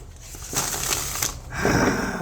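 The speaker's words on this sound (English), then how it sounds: "Yeah, this is a harder shuffle." A riffling, papery shuffle of large tarot cards in two bursts, close and crisp, with a brief pause between them.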